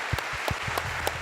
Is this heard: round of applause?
yes